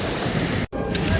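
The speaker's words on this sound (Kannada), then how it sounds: "ಕ್ರಿಸ್ಟಲ್ ಬೇ ಬೀಚ್ ಇದು ಕ್ರಿಸ್ಟಲ್ ಬೀಚ್." Sea waves at Crystal Bay beach on Nusa Penida, Bali, a loud steady wash of surf and wind noise with a brief dropout in the middle.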